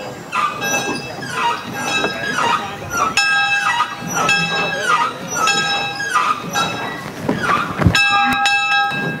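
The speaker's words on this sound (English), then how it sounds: "and even ring the locomotive's bell" A steam locomotive's bell at the National Museum of Transportation in St. Louis rings in a steady series of bright, ringing clangs about once a second, with faint voices and ambience behind it.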